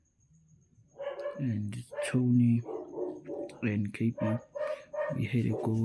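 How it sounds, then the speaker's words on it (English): Dogs bark and yip intermittently throughout, loud and close, mixed in under a man's ongoing speech. "Sorry for the dogs making noise."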